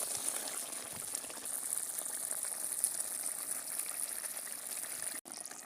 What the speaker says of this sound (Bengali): ঝোল ফুটে গেছে ভালো করে, আমি এখন ভেজে রাখা মাছ দিয়ে দেব